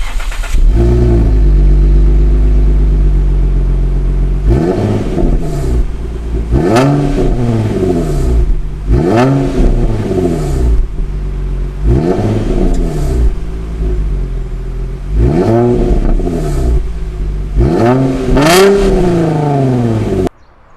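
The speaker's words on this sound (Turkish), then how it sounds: "Şöyle size kısa bir motor sesini dinlettireyim." An Infiniti FX35 SUV's 3.5-litre V6 engine is revved repeatedly, each rev rising in pitch then falling back to idle, in a steady series of roughly six loud pulls.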